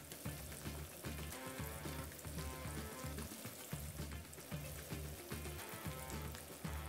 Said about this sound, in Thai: น้ำมันของเราก็ร้อนแล้วให้เรานำปลาดุกของเราลงมาทอดกรอบกันเลยให้เราใช้ไฟกลางในการทอดนะครับ